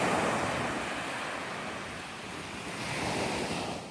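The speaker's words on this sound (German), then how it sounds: "Ich werde jetzt ins Meer gehen." Sea waves wash steadily onto the coast of Sicily in a continuous broad roar, with gusty wind buffeting the microphone and no voices present.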